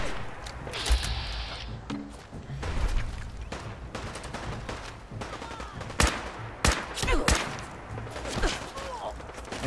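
Fallout 4 combat with repeated gunfire aimed at a brute, including sniper shots, comes as rapid bursts of sharp cracks and thuds mixed with chaotic battle noise and some voices.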